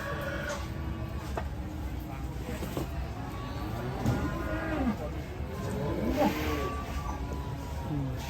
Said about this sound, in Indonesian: Sapi raksasa bertanduk